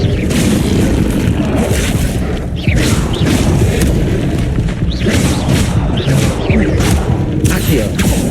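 Incendio fire spell in Hogwarts Legacy bursting in repeated loud whooshing blasts and booming impacts amid dense combat noise, with a voice speaking over it.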